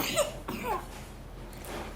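A child with a lingering cough from cold weather gives two short, light coughs in quick succession, close by, followed by quiet.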